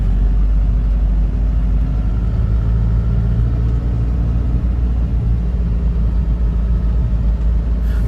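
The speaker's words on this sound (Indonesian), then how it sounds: "diiringi dengan suara mesin diesel yang konstan dan berisik" Inside a 2006 Isuzu Panther LM Smart while driving, the diesel engine gives a constant, noisy low drone with road rumble, steady and loud throughout.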